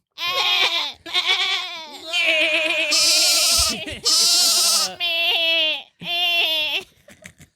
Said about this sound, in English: that's a sheep